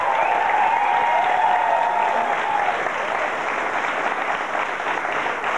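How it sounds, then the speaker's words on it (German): A studio audience applauds steadily for a TV show assistant, dense continuous clapping that stays loud and even throughout. "Auch Michael kriegt einen Applaus."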